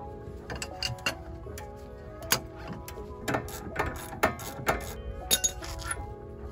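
Ratchet wrench turning a 14 mm bolt on a Mazda Miata during coilover installation, giving a run of irregular metallic ticks and clinks, close and crisp, with no talking.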